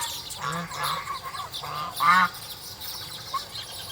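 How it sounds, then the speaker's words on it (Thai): Chinese geese on a farm give several loud, nasal honks in an irregular series, some overlapping, over a quiet outdoor background. "เป็นหานจีนที่อยู่ใน ฟาร์มไก่เบตงของเรานะครับ"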